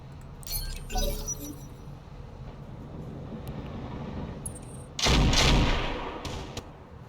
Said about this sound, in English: Please stop shooting at the stiletto